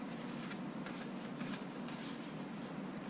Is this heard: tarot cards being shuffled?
yes